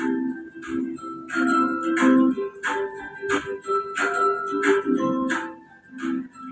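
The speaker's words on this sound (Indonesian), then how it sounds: "Kemudian, aduk hingga semua bahan saus tercampur merata." Sauce ingredients stirred in a bowl, with repeated clinks and scrapes of a utensil against the bowl in a steady rhythm, close and fairly loud, with no talking.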